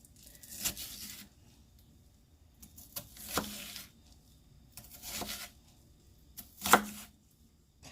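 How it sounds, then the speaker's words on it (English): Knife cutting an onion, heard as four separate short bursts of crisp chopping and slicing strokes spaced a second or two apart, fairly close and alone, with quiet pauses between them. "If you know of an easier way to cut an onion"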